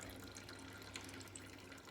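Water pours steadily into a bucket during an erosion experiment on a sloped surface, a continuous, soft, close splashing rush that runs throughout with no pauses.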